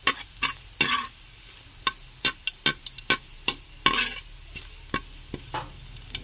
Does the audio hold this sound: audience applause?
no